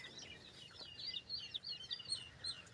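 Chicks carried home from a poultry farm make faint, high, rapid peeping chirps, a steady run of tiny overlapping calls at a distance with no talking.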